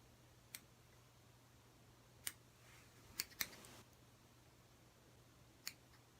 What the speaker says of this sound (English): So these scissors are probably going to be perfect for this.